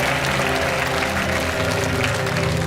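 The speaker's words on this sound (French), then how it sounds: "repartez sous les applaudissements du public" A French game show studio audience bursts into sustained applause, a dense even wash of many hands clapping that continues unbroken throughout.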